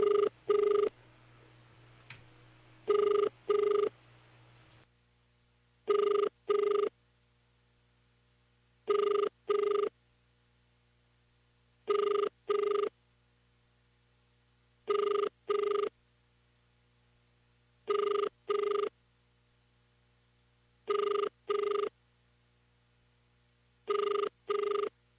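Telephone ringback tone repeating in regular double bursts about every three seconds on a call to a lawyer's cellphone, steady and clear, with a short stretch of faint background noise at the start and no talk.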